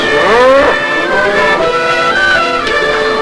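A cow moos loudly and up close, a long drawn-out lowing call that bends in pitch, followed by another lower moo.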